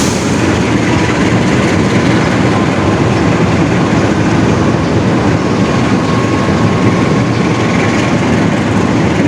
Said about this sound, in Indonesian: Arjuna Express kembali diberangkatkan dari stasiun Sidoarjo menuju tujuan akhirnya stasiun Malang